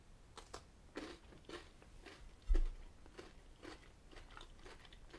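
Someone bites and chews a Nestlé White Chocolate Crunch bar close to the mic, giving repeated crisp crunches in an irregular rhythm with one sharp louder bite midway.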